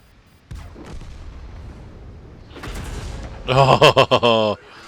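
Tank cannons fire in World of Tanks during a match, with several dull booms and rumbling impacts across the scene, then a loud burst of rapid, pulsing mechanical cracks before everything stops abruptly.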